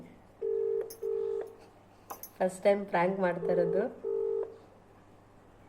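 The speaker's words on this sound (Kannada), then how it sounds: "ರಿಂಗ್ ಆಗ್ತೈತೆ" A phone's ringback tone purrs in two steady bursts, then a voice talks briefly before one more ring sounds.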